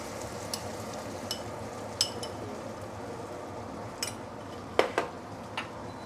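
Catfish in Kung Po sauce being stir-fried in a pan over high heat, a soft steady sizzle with scattered sharp clinks of the utensil against the pan, a few louder knocks near the end, no talking.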